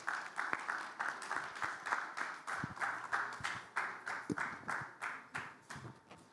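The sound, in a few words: round of applause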